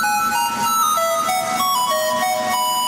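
A phone ringtone sound effect played at a nursery school anniversary stage play: a bright, electronic melodic tune of sustained stepping tones, loud and continuous with no talking over it.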